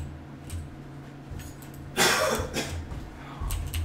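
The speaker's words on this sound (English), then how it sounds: "I heard a cough." A single short cough sounds at a moderate distance, followed by faint rustling and breathing against a quiet indoor background.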